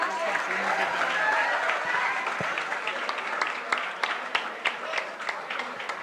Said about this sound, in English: You can give them a round of applause, yeah.